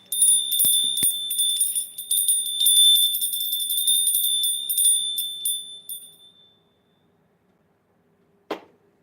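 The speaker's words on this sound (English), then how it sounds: "That was the first bell." A bell rings with a bright, sustained metallic tone and fast rattling strikes for about six seconds, then fades into silence before one sharp knock near the end.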